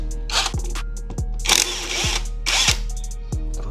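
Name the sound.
impact tool loosening motorcycle mudguard bolt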